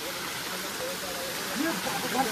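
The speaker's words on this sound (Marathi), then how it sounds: "छोटासा धबधबा आहे मित्रांनो." A small waterfall on the Raigad fort trek gives a steady close rush of falling water, a dense even wash throughout with faint voices underneath.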